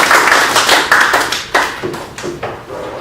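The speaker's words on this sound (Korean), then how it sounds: "힘찬 박수로 마무리하겠습니다" Applause from an audience closing a lecture at a church lay academy: a dense, steady wash of many hands clapping close by for about three seconds, with no voices over it.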